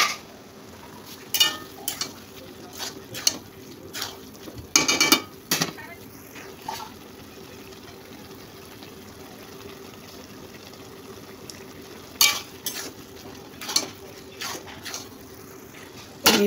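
Ash gourd is stirred in a pan, scattered scraping and clanking strokes in short clusters over a quiet simmering background, with a voice speaking between them.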